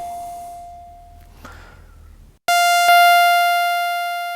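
A Roland SH-4d synthesizer's oscillator 1 holds a steady electronic tone, then cuts off briefly and returns with a changed waveform as a louder, brighter buzzing tone rich in harmonics, sustained and close.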